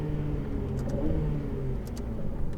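A Ferrari F8 Tributo engine revs and accelerates nearby on a track, its pitch rising through a gear with brief high clicks, no voices present.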